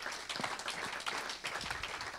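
A church congregation claps during a sermon, a short, fairly faint patter of applause with scattered individual claps and a murmur of voices.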